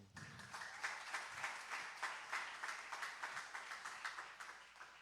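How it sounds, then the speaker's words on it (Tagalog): A church congregation claps during a preaching service in a fairly faint, loose wash that settles into a rhythmic beat of unison claps repeating about three times a second. "Matamlay ang palakpak natin."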